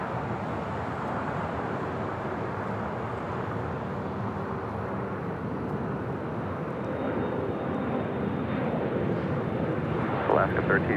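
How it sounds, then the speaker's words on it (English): A China Cargo Airlines Boeing 777 freighter on approach at LAX gives a steady, broad jet roar throughout, moderately loud and somewhat distant. "We have a China Cargo Airlines 777 freighter about to turn for final approach for Southside arrival from Shanghai."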